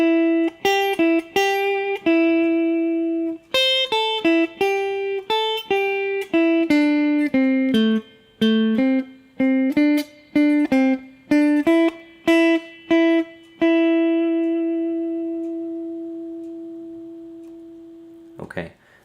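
Electric guitar plays the closing phrase of a beginner blues solo as a clear single-note line of plucked and bent notes. It ends on a long ringing note that slowly fades, followed by a brief rustle.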